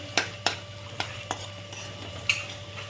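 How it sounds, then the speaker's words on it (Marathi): Chopped ginger and garlic fry quietly in a pan, with a handful of sharp spoon scrapes and taps against the metal at irregular intervals over a low steady hum, close and alone without speech. "इथं आलं लसूण बारीक करून तळून घ्यायचं आहे"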